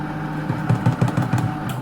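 A Compact Cook Elite food processor whirs as it runs while making chocolate mousse, a loud close motor hum with short pulsing bursts.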